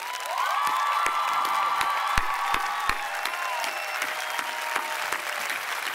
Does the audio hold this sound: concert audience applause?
yes